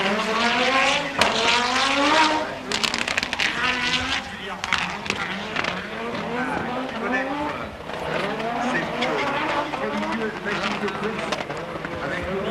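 Audi Quattro S1 four-wheel-drive rally car racing at the 1988 Race of Champions, engine note rising and falling through gear changes amid crowd and commentary noise, with a commentator talking over it throughout.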